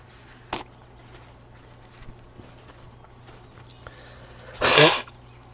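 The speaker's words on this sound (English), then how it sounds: "I need to blow my nose." A person with allergies blows their nose in one loud, broad burst near the end, after a short sharp sniff or snort earlier, against a quiet room with a steady low hum.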